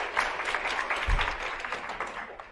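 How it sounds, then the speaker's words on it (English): Audience applause in a conference room for Kathy Randall, a former Loma Linda bedside NICU nurse, a dense steady wash of clapping that holds for a couple of seconds with one low thump partway through. "We'll just clap ahead of time."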